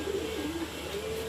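Pigeons being fed grit coo softly in a low, wavering, continuous murmur with gentle pitch rises and dips over a steady background hiss, no voices present.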